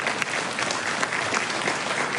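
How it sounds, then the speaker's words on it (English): Audience applause at a political gathering in Meghalaya, a dense and steady burst of clapping from a large crowd, loud and continuous throughout. "We need a real loud round of applause for Conrad Sanmai."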